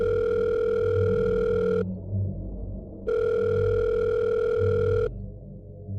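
A steady electronic phone tone from a hotel room call sounds in two long bursts with a pause between them, clear and fairly loud over a low rumbling storm background.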